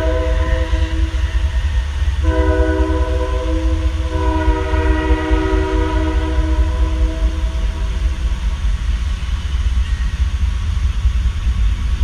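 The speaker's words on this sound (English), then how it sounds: "Just disregard the train." A train rolls past nearby, with a steady low rumble and wheel noise running the whole time. Sustained horn-like tones sound over it, entering after a couple of seconds and holding for several more.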